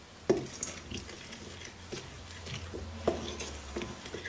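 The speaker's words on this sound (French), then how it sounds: "Je pré-mélange avec ma fourchette" A fork works vegan cookie dough in a bowl with soft scraping strokes, broken by a few sharper taps against the side, faint and close.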